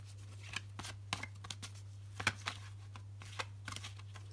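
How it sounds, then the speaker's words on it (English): Quiet, close riffling and snapping of tarot cards being shuffled in short bursts, over a low steady hum. "I'll just give them a quick shuffle"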